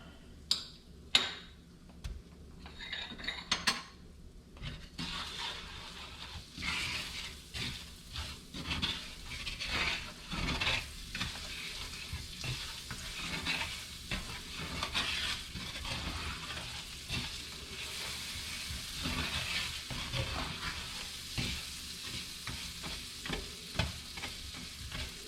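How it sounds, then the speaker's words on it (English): Butter melting and frying in a hot pan for apple tarte tatin, with close crackling sizzle and scattered sharp pops and stirring clicks over a steady frying hiss, no voices. "Now I'm going to put the butter in."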